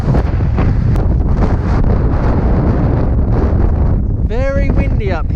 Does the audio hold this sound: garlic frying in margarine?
no